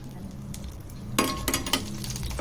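Dried red chillies dropped into hot oil with cloves, cinnamon and garlic: a soft background sizzle that flares into louder crackling frying, with a few light clinks of a utensil against the pan.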